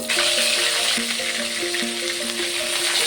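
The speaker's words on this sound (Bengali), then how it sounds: "বাকি মাছগুলোকেও একইভাবে ভেজে নেব।" Katla fish fries in hot oil with a continuous loud sizzle and crackle, while soft melodic tones play underneath.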